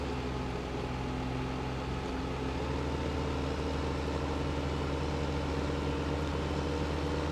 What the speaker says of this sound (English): So come on, little tractor, pull it up the hill.